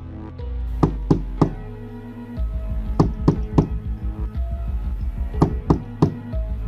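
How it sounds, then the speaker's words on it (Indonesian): Sharp wooden knocks on a door, a door-knock sound effect coming in quick clusters of three, repeated several times over a low steady hum, close and crisp with no voices. "Setelah 3 kali ketukan pintu"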